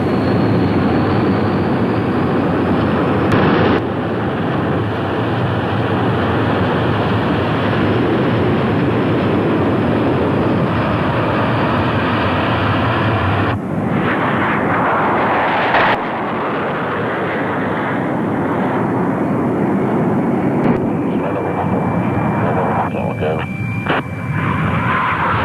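RAF SEPECAT Jaguar strike jet flying, a loud continuous jet roar held for about twenty-five seconds with abrupt shifts in tone, while someone narrates over it.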